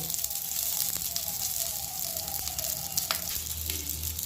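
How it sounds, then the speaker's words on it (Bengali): Onions frying lightly in a kadai with a little oil for an egg curry, a steady soft sizzle that runs throughout, with faint stirring scrapes and no voice over it. "জাস্ট পেঁয়াজগুলোকে অল্প ভেজে আমি এটা শিলে বেটে নেব"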